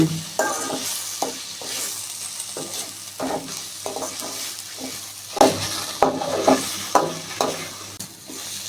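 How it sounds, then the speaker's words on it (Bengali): Broiler chicken pieces and spices being sautéed in a pan for a bhuna with salt, a steady sizzle broken by repeated scrapes and stirs of a spatula, close and moderately loud, with no talk. "মশলাগুলো আমি ভালোভাবে কষিয়ে নেব"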